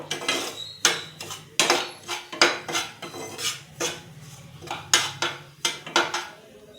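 A spoon mixes semolina, salt and sugar in a bowl, knocking and scraping against the sides in a quick, steady rhythm of a dozen or so loud close strokes, with no talking.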